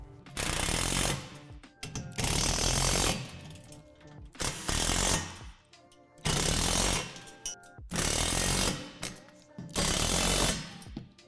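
Power tool driving and tightening assembly hardware on a Lifetime Adventure Tower Deluxe playset, heard as five loud bursts of roughly a second each with short pauses between them.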